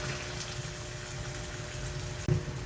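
Half a cup of water poured onto pork in a pot while cooking smoked pork dinuguan, a soft steady liquid rush under a faint mechanical hum, ending with a brief clunk near the end.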